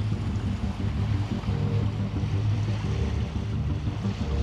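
A sailboat running under engine on the open sea between the Canaries and Cape Verde, with a steady low motor drone and broadband wind and water wash throughout, no voices.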